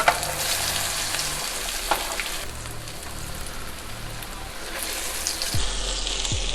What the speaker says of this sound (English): I was cooking these guys on a high flame